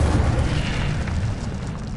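The Incendio fire spell being cast in Hogwarts Legacy: a loud, deep whooshing burst of flame that roars steadily for about two seconds, with no voices.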